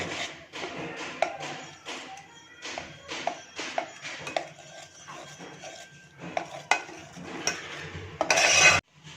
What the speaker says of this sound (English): Now mix butter and milk.